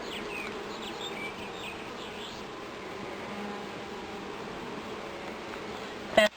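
Honeybees buzz in a continuous, steady drone inside an opened top bar hive during spring inspection, with a brief knock or scrape right at the end.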